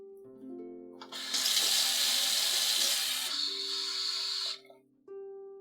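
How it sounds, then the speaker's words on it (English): Cold water, half a cup, streams from a tap for a few seconds with a steady, bright rush that stops abruptly, with soft background music and no talking. "And then half a cup cold water."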